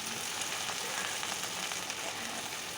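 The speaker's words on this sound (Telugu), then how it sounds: "ఆయిల్ వేసుకొని నీరు అంతా పోయేంత వరకు వేయించుకోవాలి ఫ్రెండ్స్" Gongura leaves fry in oil in a kadai for Andhra-style pachadi, giving off a dense, even sizzle that holds steady throughout with no talking.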